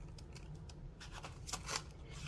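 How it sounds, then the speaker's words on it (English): Scissors snip through a paper card being cut out for a bubble fish card, leaving a few soft, quiet cuts that grow slightly louder toward the end, with no talking. "Use the scissors and then cut that part in there."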